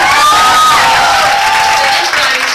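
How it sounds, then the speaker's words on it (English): An audience claps and cheers for second-prize winners at a college finals event, a dense loud burst of applause filling the whole moment, with a voice faintly over it. "Please clap for them."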